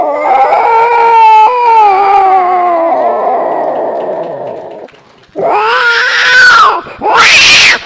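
A man imitates an angry cat confronting an intruding cat, voicing loud, wavering yowls and caterwauls close up, with a drawn-out moan followed by sharper rising screeches.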